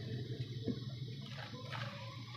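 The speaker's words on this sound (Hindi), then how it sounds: "इसके अंदर थोड़ा सा और डाल देंगे इसके अंदर पानी" Water poured into a pot of chana dal during cooking, a continuous close splashing pour with a bubbly gurgle that rises toward the end, no one speaking.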